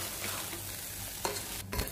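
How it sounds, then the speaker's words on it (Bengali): Rice and lentils being stirred and fried together in a pan, a soft steady sizzle with a couple of brief spatula scrapes near the end, no voices. "চাল এবং ডালকে বেশ কিছুক্ষণ এরকমভাবে নাড়াচাড়া করার পর"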